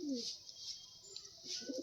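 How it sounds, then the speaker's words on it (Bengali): Faint pigeon coos from a pigeon house, a few soft low murmuring calls against quiet background hiss, heard at a distance. "একটা সিঙ্গেল মাদি পায়রা আছে"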